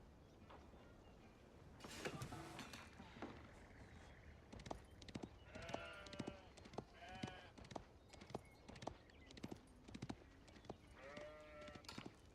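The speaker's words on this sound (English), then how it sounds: "so it already brought some more sheep back home" Sheep in the Age of Empires IV strategy game bleat repeatedly in short, wavering calls, several animals overlapping with soft hoof clops and game effects over a faint background.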